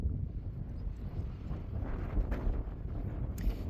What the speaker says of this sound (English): It's been really windy all day.